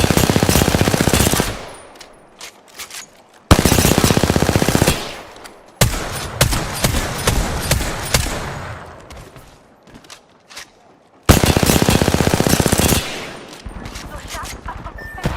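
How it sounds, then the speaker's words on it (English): Bursts of rapid gunfire from spectators crackle loudly in Dead Space, several long volleys separated by short pauses, with scattered single shots between them. "Those shots are from spectators."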